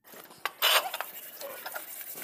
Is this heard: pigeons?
no